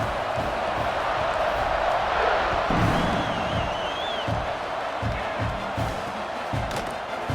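Stadium crowd in an American football video game roars steadily as a kickoff follows a touchdown, a loud continuous cheer filling the whole stretch with a few sharp thumps beneath.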